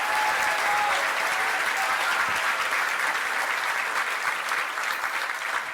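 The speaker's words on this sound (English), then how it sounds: "A round of applause for all these amazing nominees." An audience at a law enforcement awards ceremony applauds the nominees, a dense, loud, sustained clapping that holds steady and only slightly thins toward the end.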